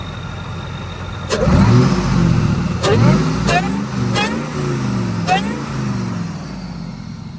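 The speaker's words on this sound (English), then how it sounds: "I can hear the supercharger whine a little bit louder" A supercharged Ford Lightning SVT pickup engine revs up in a few bursts, rising and falling with a faint supercharger whine on top, while someone talks over it.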